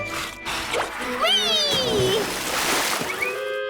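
Cartoon ponies splash into a swimming pool, with watery sloshes and splatters under bright character voices and a whistling, sliding cartoon sound effect.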